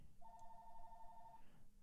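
A telephone rings once, a steady electronic trill lasting about a second, heard faintly and alone in a quiet room.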